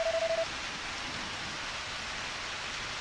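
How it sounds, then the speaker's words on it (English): Steady rain falls in the farming video game Harvest Moon, a soft even hiss of synthesized rainfall that follows a brief tone at the start. "It is raining today, which is great for crops because I don't have to water"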